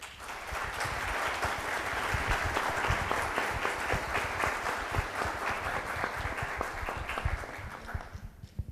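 Sustained applause from an audience greeting a panel of judicial experts at a dialogue event, steady dense clapping for about eight seconds before tapering off at the end.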